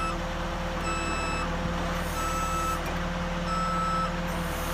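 A HA130RTJ lift lowering its front axle, a steady loud machine drone with tonal whine and a repeating beep, constant and close throughout.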